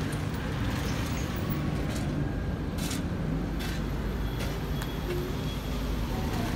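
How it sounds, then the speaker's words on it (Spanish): Heavy traffic at a busy roundabout in Zacapu, Mexico, makes a constant dense roar of engines and tires, with buses and trucks passing close and loud throughout. "aquí hay mucho tráfico. Puede ser el lugar que tiene más tráfico aquí en Zacapu"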